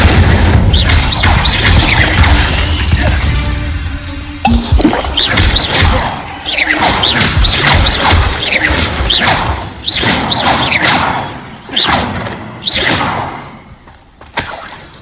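Fire spell blasts in Hogwarts Legacy erupt as a loud, busy sequence of booming bursts, crashes and whooshing swishes, with repeated sharp impacts through the middle and a slight fade near the end.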